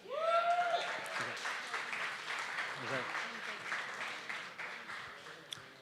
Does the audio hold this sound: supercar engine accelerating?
no